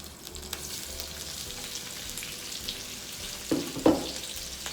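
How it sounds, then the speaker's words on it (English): Sausages brown in a pan, giving a strong, continuous frying sizzle. Near the end there are a couple of louder clatters, like utensil knocks, and no one speaks. "So we're going to brown these a little bit and put them in a crock pot."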